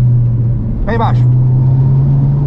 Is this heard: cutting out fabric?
no